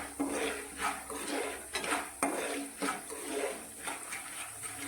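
Dhani, puffed grain, stirred with salt and turmeric in a pot for a Holi snack, a steady series of scraping, rattling strokes of the spoon against the metal pot, moderately close and quiet, no talk.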